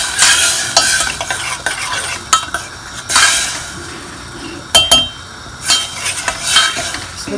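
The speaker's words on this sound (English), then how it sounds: "Just going to stir this for 1 to 2 minutes" A spoon stirs ghiya kofta sabji with spices in a pan, scraping and clinking against the metal over a steady sizzle, with irregular close strokes throughout.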